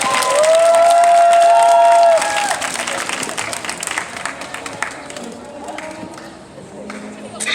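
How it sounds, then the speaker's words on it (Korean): Concert audience claps and cheers as a live stage show is about to begin, loud crowd applause mixed with whistles and shouts that thins out, with people talking and murmuring through it. "큰 박수로 시작하겠습니다"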